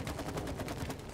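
Rapid gunfire in the co-op video game It Takes Two, a dense stream of quick repeated shots at steady loudness, with no talk over it.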